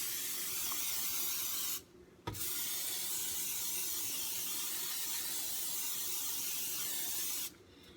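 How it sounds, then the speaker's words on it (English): Cooking spray hisses onto baking pans in two long, steady bursts, the first lasting almost two seconds and the second running about five seconds, with a short pause between them. Nothing else sounds alongside the close spray. "I'm going to spray the bottom of my pans,"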